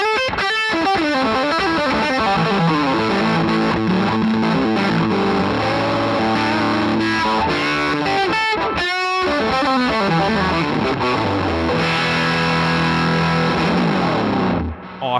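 Electric guitar played through a MixWave Electro-Harmonix Big Muff Pi fuzz plugin, half the tone fuzzed: thick sustained distorted chords and melodic lines, loud and continuous, with no talking.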